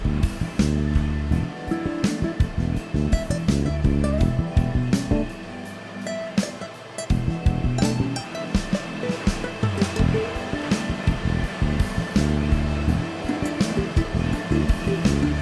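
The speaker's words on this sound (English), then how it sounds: "A putty knife and a shop vac do a great job." A shop vac roars steadily while clearing small debris off a surface being prepared for flooring, its loud whooshing airflow rising and dipping as the nozzle moves, with no talking.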